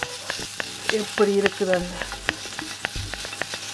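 Kingfish pieces fry in oil in a sauce pan, a steady close sizzle with scraping and stirring clatter, while a person talks briefly in Tamil.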